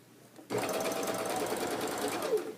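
A sewing machine runs steadily up close, stitching the last corner of a decorative welted pillow cover with raveled fabric underneath, starting abruptly after a quiet moment and holding an even hum.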